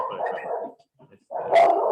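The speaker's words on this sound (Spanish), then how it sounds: "perdón por el perro," A neighbour's female dog barks indoors in two loud bursts separated by a short quiet gap, close to the listener.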